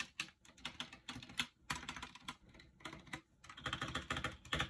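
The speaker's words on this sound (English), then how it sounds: "it is a pretty loud keyboard, but it does feel really fast" Fast typing on a new mechanical keyboard, a loud, dense run of clicking keystrokes in quick bursts with brief pauses, close and clear with no talk.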